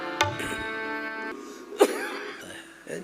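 A single sharp cough rings out during a Ram Katha religious discourse, followed by a second softer cough-like burst near the end, over a steady background hum.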